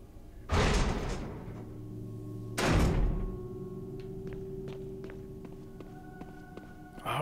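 In the video game Resident Evil Remastered HD, two heavy thuds of a door unlocking and opening land a couple of seconds apart, each with a booming low resonance, followed by lingering tonal game ambience and faint clicks.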